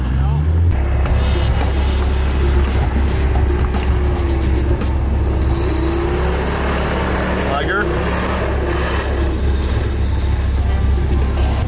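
A 4x4 pushes through deep snow with a loud, steady engine drone and low rumble running throughout, nearby and continuous, with occasional crunching and creaking mixed in.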